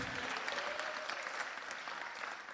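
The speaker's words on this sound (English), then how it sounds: "Go ahead, applaud for her one time" A council meeting audience gives a short, fairly soft burst of steady applause, many hands clapping at once with no speech over it.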